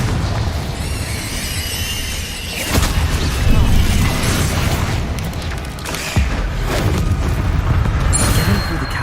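The Confringo fire spell explodes in the Hogwarts Legacy video game. Loud booming blasts and crackling bursts sit over a dense, continuous rumble of magical combat in a cavern.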